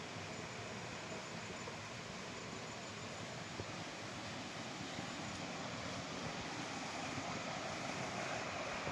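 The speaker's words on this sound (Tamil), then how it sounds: "அந்த அருவி இந்த நீரோடை வந்து பார்த்திங்கன்னா இந்த சைட்லேருந்து தான் வருது." A waterfall stream flows beside a temple at Kalahasti in Andhra Pradesh, producing a dense, constant roar of rushing water that stays steady and loud throughout, with no voices.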